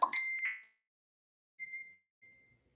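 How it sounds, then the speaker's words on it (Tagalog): A cellphone notification rings out as a clear, bright ding, followed by two fainter, sustained electronic tones in an otherwise silent room. "Ang ingay ng cellphone ko talaga, promise."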